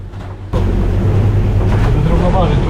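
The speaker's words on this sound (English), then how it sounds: "Did you turn on the engine? Yes." A sailboat's engine starts and runs at anchor during a sudden storm, a sudden jump to a loud low droning rumble mixed with wind noise, with people talking over it.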